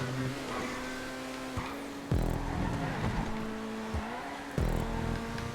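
A race car in the GTA 5 video game, a Grotti Tempesta on a custom track, its engine humming steadily with sudden revving surges and tire squeals at gear changes and corners, loud and close.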